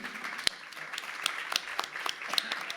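A seated audience at a panel debate applauds as the guests are named, a dense, steady patter of clapping with a few sharper individual claps standing out.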